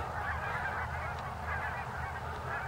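A large flock of Greater Canada geese honks continuously in the open air near Wellington, Colorado, a busy overlapping chorus at mid distance over a low wind rumble.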